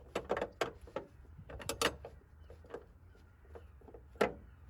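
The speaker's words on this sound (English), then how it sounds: "That noise there is the bolt, threaded part of the bolt snapping." A spanner works a bolt on a 3.0 Ford Capri Ghia barn find with a series of sharp metallic clicks and ratcheting cracks, clustered early then a single louder snap near the end, close and alone.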